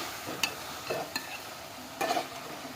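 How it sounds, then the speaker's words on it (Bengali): Onions sautéing in a pan with a meat dish, making a soft steady sizzle broken by a few sharp scrapes and clinks of a spoon stirring, close and moderately loud, with no talking. "পেঁয়াজটা আমি ভালো করে কষিয়ে নিচ্ছি"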